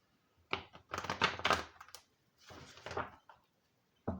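Tarot cards being shuffled, with close riffling bursts in two main bouts and a brief rustle at the end, no talking.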